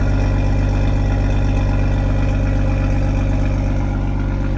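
A Toyota Supra sports car exhaust gives a steady, deep rumble with a low idle growl, loud and continuous throughout, no voices.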